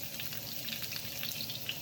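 Salmon fillets frying skin side in a pan for teriyaki, a faint, steady crackling sizzle with tiny pops, heard alone at low level.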